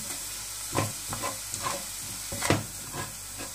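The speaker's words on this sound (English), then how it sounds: "This will help these onions to fry and turn into caramelization" Chopped onions frying in a tablespoon of oil in a pan, with a soft steady sizzle under irregular scraping stirs that come as several distinct bursts.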